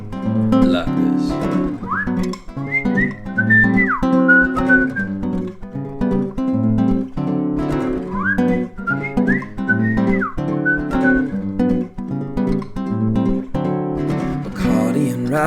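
A person whistles a bouncy melody over a rhythmic music backing, the whistled phrases rising and falling clearly and close.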